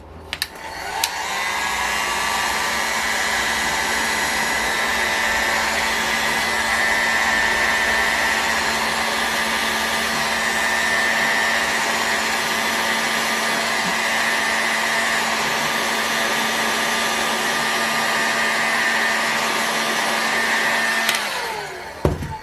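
A heat gun or hair dryer warms the crankcase of an OS 25 FSR model engine, giving a loud, steady blowing whir that starts near the beginning, holds unbroken for about twenty seconds, then cuts off, with no talk.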